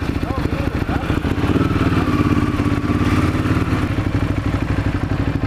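A motorcycle engine roaring steadily through a wheelie on a ride in New York City, loud and continuous for several seconds with some clatter and wind rumble.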